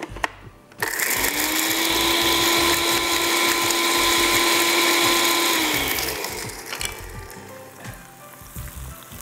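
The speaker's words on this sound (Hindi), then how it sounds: "again we'll have to grind this" A kitchen grinder runs loudly and steadily for about five seconds, its motor whine holding constant as it grinds ingredients, then it winds down and stops.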